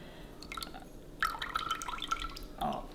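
Coconut milk being poured for Thai coconut jello gives soft, uneven liquid splashes and dribbles into a container, in a few close, short bursts.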